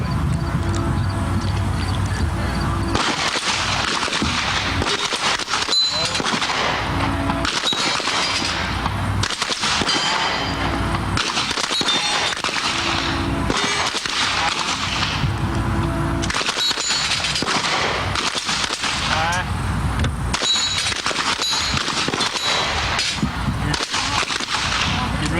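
Gunfire on the firing line of a shooting range, loud and near, a rapid continuous volley of overlapping sharp reports and cracks from several shooters that keeps up throughout, with no talk.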